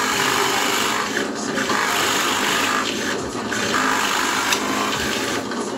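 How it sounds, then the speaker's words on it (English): A drill press boring holes in wood for a wine glass and bottle caddy, a loud steady whirring grind with brief dips as the bit cuts through, close and continuous. "And I just put it on the drill press. Gonna get a little noisy."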